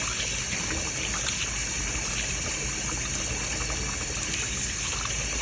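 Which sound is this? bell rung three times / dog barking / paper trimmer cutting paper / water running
water running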